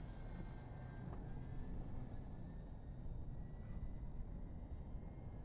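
An FMS F4U-4 Corsair RC plane with a Reflex V3 800mm setup flies at about half throttle, giving a steady, faint, distant motor drone with a thin high whine over a broad hiss.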